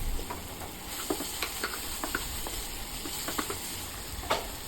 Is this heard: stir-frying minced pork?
yes